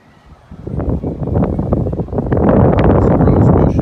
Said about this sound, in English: Sorry, it's super windy out here today.